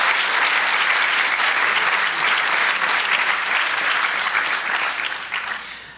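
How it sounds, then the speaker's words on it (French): Sustained applause from a gala audience honoring a sports scholarship winner, many hands clapping in a thick continuous roar that holds strong before tapering off in the last second. "Encore une bonne applaudissement pour Nathan Berthelot."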